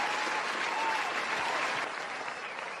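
A crowd gives a dense, steady round of applause at a live show, the clapping filling the room evenly and loudly throughout, with no clear voices above it.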